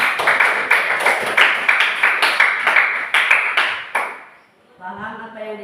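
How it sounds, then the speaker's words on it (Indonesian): Students in a classroom clap for their classmate Ayu in a brisk, rhythmic, near-unison clapping that stays loud for about four seconds, then stops as a voice begins speaking. "Tepuk tangan dulu dong buat Ayu."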